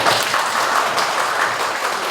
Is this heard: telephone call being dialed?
no